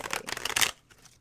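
A stiff new Mucha tarot deck is shuffled close by in a short, chunky riffle of crisp flicking card sounds lasting under a second, then a few faint taps.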